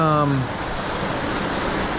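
A mountain stream rushes steadily near a waterfall in the Rocky Mountains, a loud, continuous broadband roar that starts with a short stretch of talk.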